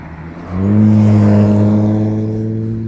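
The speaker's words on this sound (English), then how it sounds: "you don't realise how bloody noisy cars are until you're near some of them" A car passes on a road near a disused Great Eastern Railway line between Leiston and Aldeburgh. A loud, droning engine tone rises suddenly after a quiet moment and holds close, then slowly eases.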